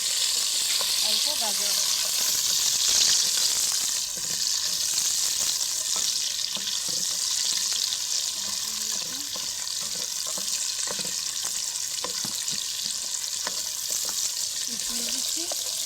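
Vegetables and egg sizzle and fry for fried rice, with peas and capsicum in the pan; a steady bright hiss runs throughout with occasional stirring scrapes, while someone speaks briefly over it.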